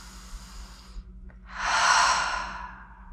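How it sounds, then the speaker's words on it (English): A deep breath drawn in and let out during a hip mobility workout, a long audible exhale swelling and fading close to the mic over a low steady hum. "Take a deep breath in and out"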